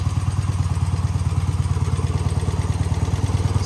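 A 1970-1995 BMW Airhead boxer-twin motorcycle with Bing carburetors idles just after starting, its loud, close, even low thumping pulse repeating steadily with a faint mechanical clatter on top.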